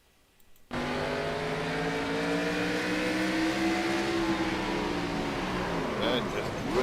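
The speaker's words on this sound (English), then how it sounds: "Right on board the throttle and listen." A race car engine at full throttle at Talladega roars loud and steady after a brief quiet start, its pitch holding high and then wavering. A commentator talks over it.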